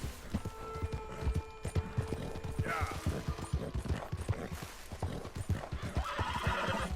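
Galloping horse hooves clop in quick uneven rhythm with a brief whinny partway through, from a Red Dead Redemption 2 game near Annesburg, moderately quiet and close.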